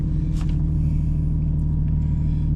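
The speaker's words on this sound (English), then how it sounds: "we'll start it in neutral, clutch in" A Nissan 370Z engine idles steadily and loud throughout, a constant low rumble with faint higher noise above it and no talk.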